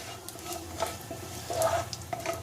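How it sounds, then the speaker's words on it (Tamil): Whole fennel, cumin, star anise, cinnamon, cloves and peppercorns crackle in hot oil in a pan, a soft steady sizzle with small pops and a brief louder burst as they are stirred. "இதெல்லாம் நல்லா பொரிஞ்சிடட்டும்."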